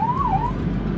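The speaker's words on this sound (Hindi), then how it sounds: "ये गई एम्बुलेंस" An ambulance siren on the road gives a single rising and falling wail over low traffic rumble, fading quickly as the vehicle passes by.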